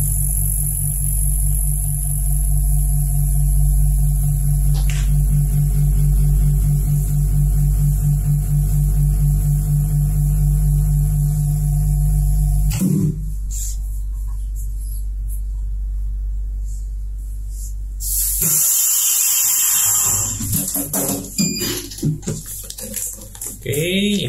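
A vacuum sealer packs chicken with a loud, steady motor hum and pumping drone that cuts off partway through, followed by quieter clicks and a brief whir.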